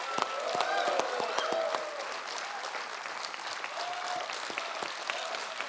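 A studio audience on a comedy talk show gives a guest a warm welcome with loud, sustained clapping, crisp individual claps ringing out, strongest at first and then holding steady.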